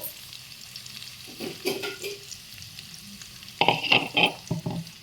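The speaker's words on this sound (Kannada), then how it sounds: "ಇದನ್ನು ಹೀಗೆ ಕೈ ಆಡಿಸ್ತಾ ಇರಿ ಆವಾಗ ಈರುಳ್ಳಿ ಅದು ಒಂಥರ ಹಸಿ ಇದು ಹೊರಟೋಗುತ್ತೆ" Onion masala fries in a pan for a kurma while a spoon stirs it, a soft sizzle under bursts of scraping strokes that grow louder and busier toward the end.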